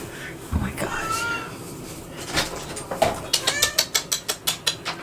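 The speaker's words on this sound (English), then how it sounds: "let me let my cat in because he's crying" Cat crying and meowing at a door to be let in, with a run of loud, evenly spaced bursts building toward the end, close by, and a person speaking nearby.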